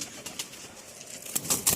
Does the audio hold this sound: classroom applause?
no